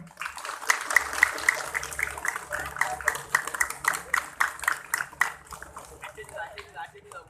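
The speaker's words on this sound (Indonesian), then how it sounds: "Berikan tepuk tangan yang meriah." Applause from pupils and staff at a primary school Youth Pledge ceremony, a steady spatter of hand claps lasting several seconds with voices and crowd noise mixed in.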